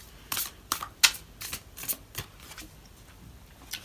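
Several crisp riffling bursts of large tarot cards being shuffled, irregularly spaced, close and fairly loud, with quieter shuffles trailing off.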